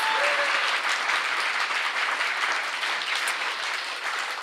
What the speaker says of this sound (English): Please give her also a big round of applause and the writers.